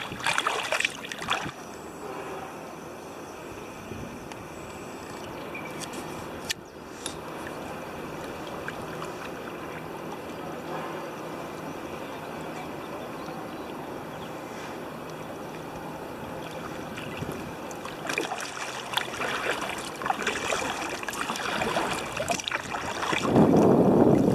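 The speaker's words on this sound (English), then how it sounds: "so just going to paddle for a bit, then find a good spot to fish" Kayak paddling on open water near oyster leases at Forster Tuncurry, a steady low wash of water and light wind noise, with brief louder splashes and knocks near the start and swelling again toward the end.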